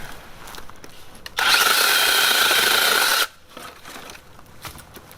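IMOUM 21V brushless 6-inch electric chainsaw cutting through a thick piece of wood, a loud steady whining buzz lasting about two seconds, starting and stopping abruptly between quieter handling noise.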